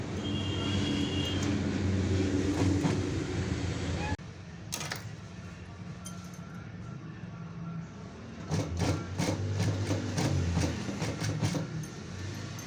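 A sewing machine running in close bursts, stitching piping onto a blouse body piece: a steady mechanical whir that pauses briefly and then resumes with rapid rattling, loud and near.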